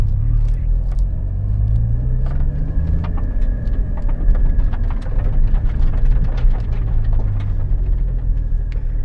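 A Porsche Cayman GT4 of the 981 generation rolls off to park, its engine a steady low rumble close by with a faint higher whine throughout, no voices over it.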